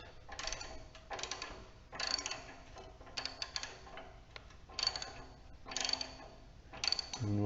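Bursts of clicking ratchet work on 10 mm bolts holding the muffler of a John Deere L130 lawn tractor, several repeated runs of rapid close ticks separated by brief pauses, with no talking.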